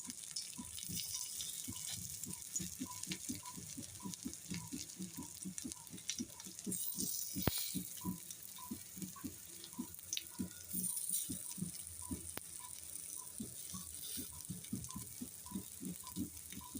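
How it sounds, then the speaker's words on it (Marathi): Corn cutlets sizzle in oil on a hot griddle over low heat, a steady hiss with a regular ticking pulse running throughout and no talk. "मंद आचेवर आपण या ठिकाणी कटलेट आपले भाजून घेणार आहोत"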